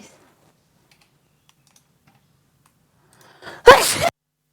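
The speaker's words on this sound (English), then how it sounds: "I need to sneeze." A single sharp sneeze bursts out close and loud after a long quiet stretch, with a brief intake of breath just before it, in a room where someone is setting up a camera and computer.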